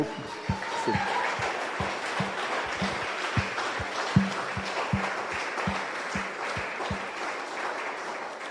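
A church congregation at an evangelical service claps in a steady rhythmic beat, sharp thumps recurring about twice per second over a bed of loud, mixed crowd clapping.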